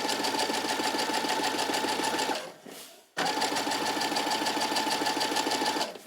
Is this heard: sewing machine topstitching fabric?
yes